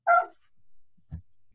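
A dog gives one sharp, close bark indoors during an online interview, followed by a faint low thump and quiet afterwards.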